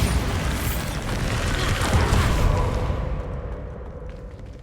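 Bombarda blast spell explosion in Hogwarts Legacy, a broad booming burst that swells over a couple of seconds and then fades away, with no talking.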